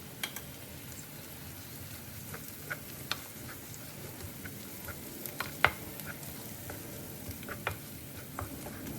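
Ginger garlic paste fries in oil with golden-brown onions for an egg curry, giving a soft, steady sizzle with faint scattered pops and occasional light stirring taps.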